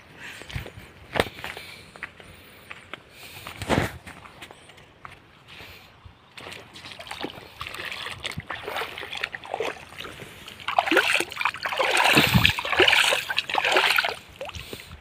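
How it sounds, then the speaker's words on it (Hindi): River water runs and splashes near a riverbank where a man wades toward the middle of the Kunda river near Khargone, with irregular sloshing and footstep-like splashes that build louder toward the end, plus occasional sharp knocks. "पानी चल रहा है"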